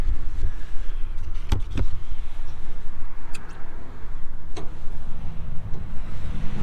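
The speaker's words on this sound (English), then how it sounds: "Let's see about lifting this hood up." The hood of a 2014 Massey Ferguson 1754 tractor is worked open, with a few sharp metallic clicks and clunks scattered over a low rumbling background, close to the listener and with no speech.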